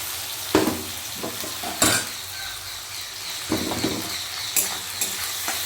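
Ginger and cumin paste frying with onions in a pan, a continuous close sizzle broken by several sharp clinks and scrapes of a spoon stirring against the metal.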